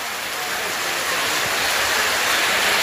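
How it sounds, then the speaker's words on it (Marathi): Heavy monsoon rain pours over an open ground in Mira-Bhayandar, a loud, dense, continuous hiss that swells slightly louder partway through, with no distinct voices. "मीरा भाईंदरला मोठ्या प्रमाणे पाऊस आहे"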